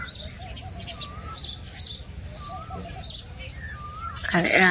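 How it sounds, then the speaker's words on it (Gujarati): Repeated small sparrow chirps and tweets come in short bursts over a low background rumble, with a brief louder flutter near the end. "જો પક્ષી ચકલી બોલે છે જો"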